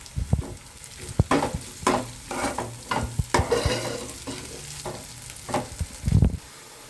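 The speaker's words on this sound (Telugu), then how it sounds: "అల్లం వెల్లుల్లి పేస్ట్ పచ్చివాసన పోయేదాకా వేపుకోవాలి ఫ్రెండ్స్. ఇలా బాగా మిక్స్ చేసుకుని వేపుకోవాలి ఫ్రెండ్స్" A spoon mixes ginger garlic paste frying with onions in a pan, giving loud irregular scraping and clanking strokes over a steady sizzle, close up and with no voices.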